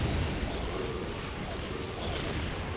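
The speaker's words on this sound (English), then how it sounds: "We got a massive explosions." Tactical nuke explosions in the video game Dawn of War Ultimate Apocalypse, a dense, continuous rumbling blast roar with crackling bursts throughout, loud and sustained, no talk.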